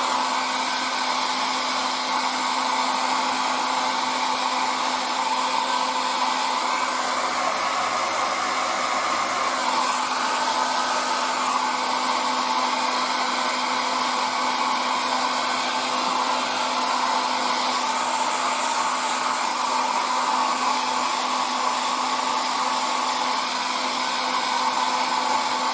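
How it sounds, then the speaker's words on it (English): A hair dryer blows steadily and close by for the full stretch, drying fresh winter camouflage paint on a 1:35 scale KV-2 tank model, its motor whine even and unbroken, with no talk over it. "now let's dry this one"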